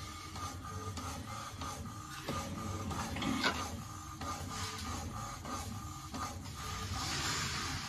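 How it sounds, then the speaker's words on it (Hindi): An HP inkjet printer slowly feeding a page, giving a steady mechanical whir with intermittent clicks and a brief louder rattle partway through, close and alone with no talk. "अभी आप देखोगे ये पेज ले रहा है, बहुत ही कम स्पीड से आ रही है ये कमांड"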